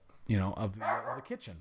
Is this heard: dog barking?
yes